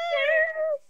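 A single cat named Kitty lets out one clear, drawn-out meow close to the microphone, rising slightly then fading after about a second, with no talking over it.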